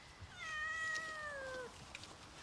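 A cat lets out one drawn-out, wavering meow that bends downward at the end, fairly soft against a quiet background, with no talking.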